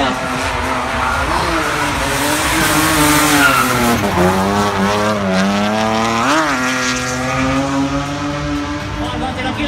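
A drift car on track at a Drift Allstars qualifying round in Hungary holds steady throttle, its engine revving high with pitch swells and dips while the tires squeal continuously, loud and close, with a commentator talking over it.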